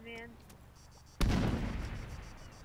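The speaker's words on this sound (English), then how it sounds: "I hear flashbangs on someone's screen." A flashbang grenade going off in Arma 3, one sudden loud bang after a short tone and quiet, followed by a long roaring, ringing tail that fades slowly.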